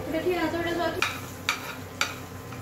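Onion and capsicum stir-frying in a pan for pasta, a soft steady sizzle with three distinct utensil scrapes or taps at even intervals, close and moderately quiet, a faint voice-like murmur at the start.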